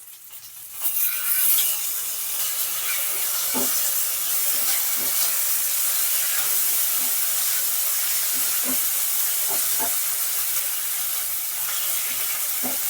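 Mutton fat sizzling in a pan while cooking mutton ghugni, a steady broad hiss with scattered soft pops and crackles continuing throughout, fairly close and alone.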